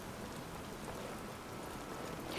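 Steady rain in the modded Skyrim Special Edition game world, a constant dense hiss of falling drops with no pauses, alone and with no talking.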